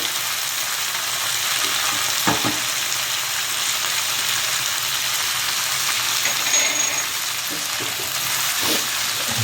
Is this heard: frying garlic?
yes